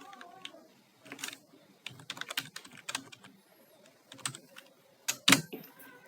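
Close, clattering keystrokes on a computer keyboard come in quick irregular bursts with short pauses, ending in a louder, sharper key press, and no voice over them.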